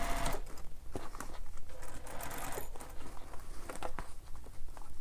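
A sewing machine stitches the box corners of a fabric bag in close, rapid mechanical bursts with short pauses between runs.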